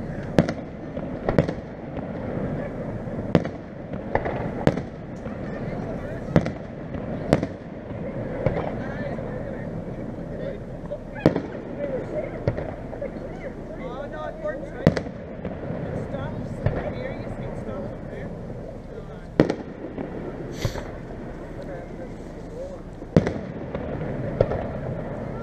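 Public fireworks display at Strabane in 2015, with sharp bangs and booms popping out of a steady crowd murmur at irregular intervals, some close and loud, others softer, while people chat nearby throughout.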